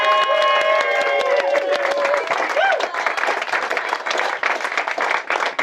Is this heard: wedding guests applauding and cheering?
yes